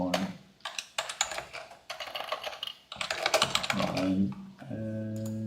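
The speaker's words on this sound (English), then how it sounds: "Tim, do you have like a mechanical keyboard? Is it your keyboard particularly noisy?" Rapid, uneven bursts of clattering keystrokes from a noisy mechanical keyboard come in close, loud flurries with short pauses, and a tonal hum enters at the end.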